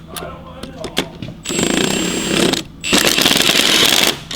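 An impact or power tool rattles in two loud sustained bursts while driving flywheel bolts on a BMW V8/V10 E60-series clutch job, with a few clicks and knocks between bursts.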